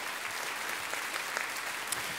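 Steady applause from a crowd at a music awards ceremony, continuous clapping filling the whole stretch without a break.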